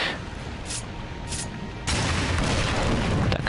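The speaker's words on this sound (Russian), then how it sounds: "Так, это просто взрывы." Explosions in the Darksiders 2 video game, a dense rumbling burst of booms that rises sharply midway and stays loud and crackling to the end, with no talk over it.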